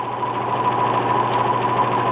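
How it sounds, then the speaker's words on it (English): A powered belt strop with a straw belt, run like a belt sander for sharpening carving tools, gives a steady, close motor hum and whir with no change in pitch. "Now, you just turn it on. It's just a belt."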